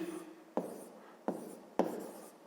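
A pen writes a math formula by hand on paper in a fifth-grade arithmetic lesson, with three distinct quiet scratching strokes, each starting sharply and trailing off, close up in a hushed room.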